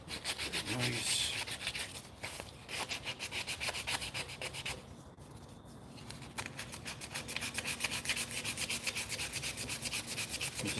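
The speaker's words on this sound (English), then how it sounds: "I'm just sanding with the grain" Sandpaper rubs back and forth along the grain of a cherry wood spice jar, a steady rhythmic rasping close by with a brief pause midway.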